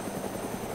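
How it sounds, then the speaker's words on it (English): Helicopter engine idling in Arma 2 DayZ Mod, a steady loud rotor and turbine roar filling a brief moment with no other sound. "I'm just going to leave the helicopter running there."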